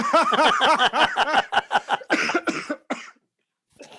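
A rapid burst of harsh, loud coughs from hay fever in quick succession, then a short pause and one more cough at the end.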